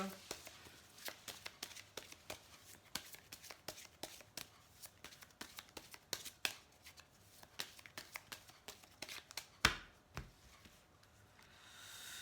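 Oracle cards being shuffled by hand during a reading, with quiet rapid riffles and soft flicks in repeated bursts and a sharper slap near the end, faint and close.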